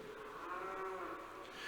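Cattle at a livestock show letting out a single long, drawn-out moo, moderately close, with faint background murmur of the show ring.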